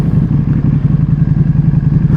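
A Ducati Panigale V2 with upgrades, ridden hard, gives a loud, close engine roar with a throbbing low pulse and clattering mechanical texture that holds steady throughout, with no talk over it.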